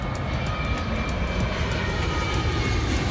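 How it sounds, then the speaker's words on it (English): Jet engine noise in a flight-simulator session of a 737 approach and landing, a constant loud roar with a steady high whine and faint repeating pulses, no voices. "Let's get those jet noises again."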